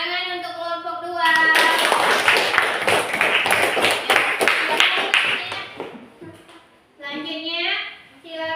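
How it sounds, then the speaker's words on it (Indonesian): A classroom of children claps together for a presenting group, a dense burst of hand claps lasting several seconds between stretches of a voice speaking, the clapping fading out near the end. "tepuk tangan untuk kelompok 2"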